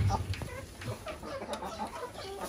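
Native hill hens cluck softly and intermittently in a laying shed, faint and close, with a few sharper notes scattered through the quiet background.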